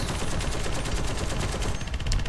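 Rapid, continuous automatic gunfire from an anti-aircraft gun in War Thunder, with a dense rattling rhythm, loud and sustained throughout with no pauses.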